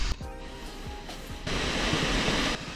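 Waterfall at a hidden scenic spot in Arizona: steady broadband rush of falling water, swelling louder midway as if nearer, with faint soft knocks and handling noise early on.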